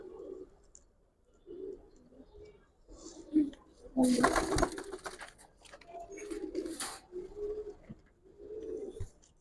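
Giribaz pigeons cooing close by in repeated soft low phrases, with a burst of fluttering and rustling in the middle, at a low overall level.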